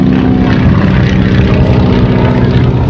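A Stearman biplane's radial engine drones loud and close during an aerobatic flight demonstration, a steady, heavy propeller roar with a gravity-feed fuel system, filling the whole stretch without pause.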